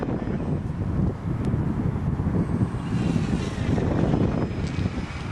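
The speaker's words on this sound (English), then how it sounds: "Inverted touch and go." A Parkzone T-28 RC model airplane flies an inverted touch and go in gusty wind, its electric motor a steady drone under heavy wind rumble on the microphone.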